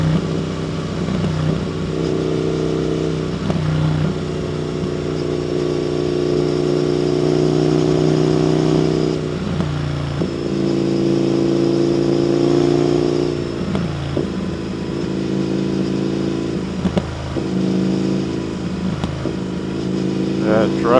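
Indian FTR 1200 S motorcycle engine burbling and revving while riding, loud and steady with repeated throttle rises and drops, with a rider talking over it at times.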